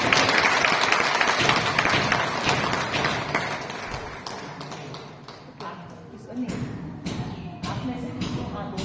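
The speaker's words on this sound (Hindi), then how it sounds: "तो तालियां बजाइए।" A congregation in a church in Ranchi, Jharkhand claps hands together. The clapping starts dense and loud, then thins out into scattered claps and thumps, with voices underneath.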